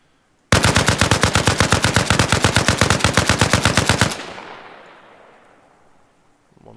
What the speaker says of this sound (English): I just depleted the whole magazine.